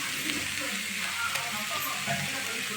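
Carrot dosa cooking on a hot pan gives a soft, continuous frying sizzle, fairly quiet and steady, with faint background clatter and no voice.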